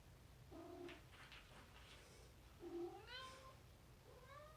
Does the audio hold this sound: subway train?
no